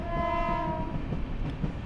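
The Sealdah–Jalpaiguri Road Humsafar Express, an AC train running via Ranaghat and Krishnanagar, sounds a loud, sustained horn that fades after about a second, over a constant low rumble of the moving coaches.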